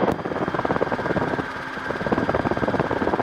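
A Rotorway helicopter flies in the circuit over Canyon Creek, a steady close rotor beat and engine drone filling the whole stretch at an even, fairly loud level.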